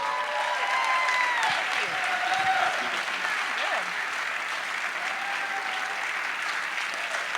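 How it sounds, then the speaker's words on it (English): Audience applause at a Poor People's Campaign rally in Greensboro, North Carolina: sustained, thick clapping from a large crowd, with scattered cheers and voices blending in, steady and loud for over seven seconds. "I want you to give a big round of applause"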